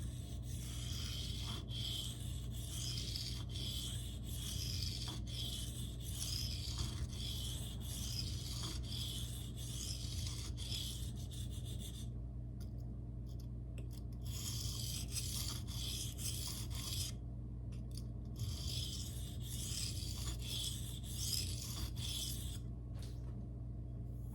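A knife is drawn freehand across Shapton Glass and Naniwa whetstones in quiet, rhythmic rasping strokes, a steady run of passes with a few brief pauses and no talk.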